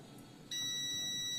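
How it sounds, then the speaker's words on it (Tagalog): A BRODU BTS-1708 under repair for a no-power fault gives off a steady electronic buzzer tone that starts abruptly partway through and holds at a constant pitch, alone over faint background hiss. "Nagbabuzzer siya"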